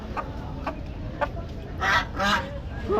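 Chinese chickens cluck at a poultry market in Bangladesh, with repeated short calls over a busy, noisy background.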